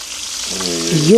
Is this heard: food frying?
yes